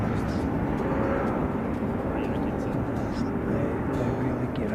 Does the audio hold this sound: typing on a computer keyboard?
no